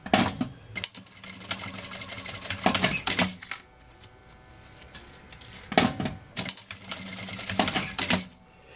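A sewing machine stitches fabric on a small children's backpack in two bursts of fast, rattling mechanical chatter, each lasting a couple of seconds, separated by quieter handling and fabric shuffling, heard up close.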